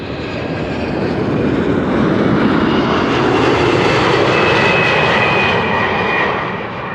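A 26-year-old United Airlines Boeing 767-300 arrives at Amsterdam Schiphol from Chicago, its loud jet engine roar swelling, holding for several seconds, then easing off.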